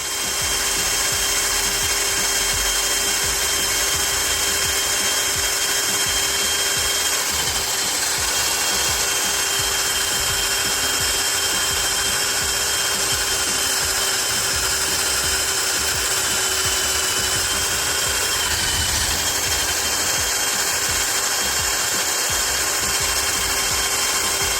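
A DeWalt DCD130 cordless drill bores through steel plate with a loud, continuous whine that holds steady for the whole stretch, close up, with no talking.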